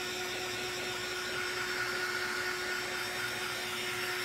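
A heat gun blows steadily while drying a Dollar Tree and Walmart fall craft decor piece, a constant close whirring roar with a high whine that holds unbroken and alone throughout.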